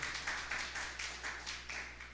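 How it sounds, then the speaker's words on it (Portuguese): An audience at a Christian education seminar gives a round of applause, steady rhythmic claps from a small group, fairly soft and slightly distant, with no voices over it. "Uma salva de palmas para a Júlia"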